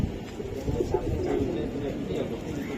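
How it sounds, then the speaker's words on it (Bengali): Racing high-flyer pigeons coo in a crowded pigeon market, a steady low murmur of birds under close, continuous conversation and background bustle. "দেখেন এই যে কবুতরটা"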